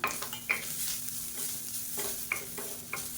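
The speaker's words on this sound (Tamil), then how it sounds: "ஒரு கப் அளவுக்கு துருவன தேங்காய் எடுத்துருக்கேன் இதை சேர்த்துக்கலாம் சேர்த்து நல்லா வதக்கி விட்டுக்கலாம்" Grated coconut sautéing in ghee in a pan for sesame-filled kozhukattai, a low steady sizzle broken by a few sharp scraping stirs of the spatula, close and without talk.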